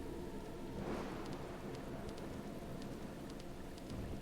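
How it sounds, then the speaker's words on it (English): Steady rain hisses in a dense, even wash in the video game Deadly Premonition, quiet and continuous, with a soft swelling whoosh early on and faint ticking patters scattered throughout. "It's so much rain."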